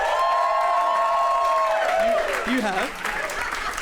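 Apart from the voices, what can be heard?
audience applause and cheering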